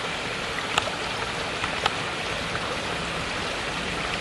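A woodland stream flows in a steady, close, broadband rush of water with a few faint droplet splashes, continuous and alone without talk.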